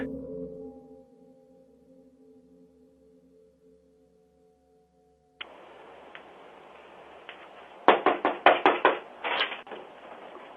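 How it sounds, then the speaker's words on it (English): A little girl knocks on the door of an unoccupied house in the middle of the night, a quick burst of several loud, close raps following a stretch of low hum and faint background noise. "knocking on the door of an unoccupied house in the middle of the night"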